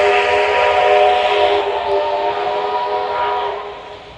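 The whistle of Garratt steam locomotive 6029 sounds as one long, loud, steady blast held for about four seconds and then fading slightly, with no voices over it.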